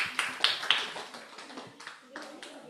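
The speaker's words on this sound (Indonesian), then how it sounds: "Berikan tepuk tangan" Brief, scattered applause rewards a correct quiz answer during an online national webinar: a few sharp, uneven claps close to the microphone, thinning out within a couple of seconds.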